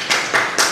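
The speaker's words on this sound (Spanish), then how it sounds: "vamos a recibir con fuertes aplausos" An audience at a book discussion event claps in a brief burst, a few loud, close rounds of hand claps in quick succession.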